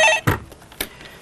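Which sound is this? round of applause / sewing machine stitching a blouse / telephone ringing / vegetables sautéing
telephone ringing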